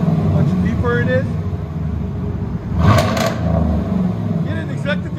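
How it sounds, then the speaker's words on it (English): A 2016 Chevy Silverado High Country with a 6.2L V8 and true dual exhaust revs with a deep, loud rumble that swells briefly mid-clip, while people talk over it nearby. "See the difference in sound? Oh, big difference. Much deeper it is."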